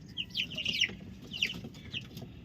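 Broiler chickens cluck in short bright bursts, several calls in quick succession close by over a low background hum, with no talking.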